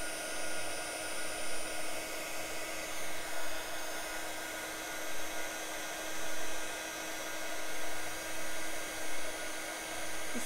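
A heat tool blows steadily while melting embossing powder in a craft session, a continuous close whirring hiss of fan and air with slight fluctuations, with no voices.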